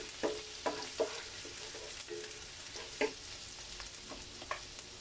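Sliced onions sauté in a hot pan with steady frying hiss, punctuated by several sharp scrapes and taps of a spatula stirring them, close and fairly quiet, with no voices.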